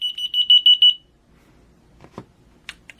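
Small Esky key finder receiver, set off by a press of the transmitter button, gives a rapid burst of about eight loud, shrill electronic beeps over the first second, then falls quiet apart from faint handling clicks and rustle.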